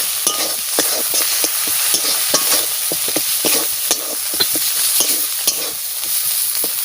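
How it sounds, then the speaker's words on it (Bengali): Spice masala fries in a pan for a prawn malai curry, sizzling loudly and steadily while a utensil stirs and scrapes it in a quick, regular rhythm. "মশলাটা একটু ভাজা ভাজা হবে"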